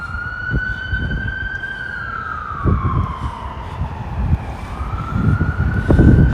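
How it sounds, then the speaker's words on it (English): A wailing emergency siren sweeps slowly through its tone on a busy Brooklyn street, loud and continuous, layered over truck rumble and passing traffic that grows heavier toward the end. "so many sirens. I guess that's a normal day in Brooklyn."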